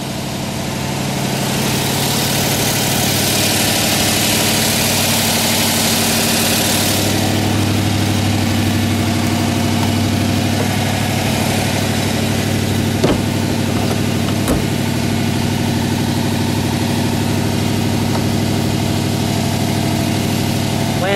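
All-original 1964 Shelby AC Cobra with a 289 V8 idling steadily, a loud, close, rumbling burble that holds throughout, with a couple of faint clicks.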